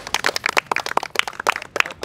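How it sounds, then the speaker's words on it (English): A few people clap for themselves during a school quiz competition at a junior high school, with irregular, close, sharp claps for about two seconds. "clap for yourself"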